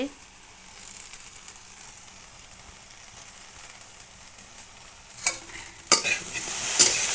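Okra is stirred with turmeric in a pan on a wood-fired stove, a soft steady sizzle and scraping that build to a few sharper clatters and crackles near the end.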